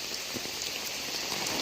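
Heavy rain falls in Kozhikode, a dense steady hiss of drops striking surfaces close by, unbroken and fairly loud throughout with no voices.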